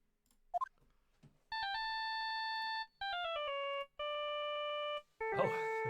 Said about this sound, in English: Oh, it's a ringtone.